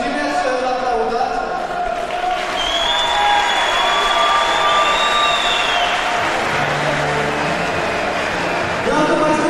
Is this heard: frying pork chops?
no